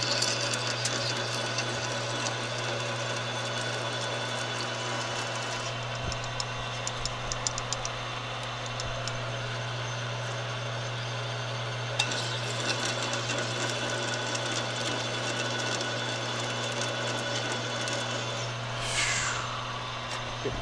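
Steady mechanical whir of a machine drilling out a car part being turned into a desk lamp, a constant motor hum with faint ticking and brief clicks, close and continuous without speech.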